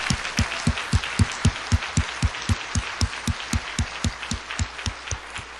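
A church congregation at a New Year's Eve service claps in unison, a quick, steady rhythmic beat of about nineteen loud, close claps over a faint crowd murmur.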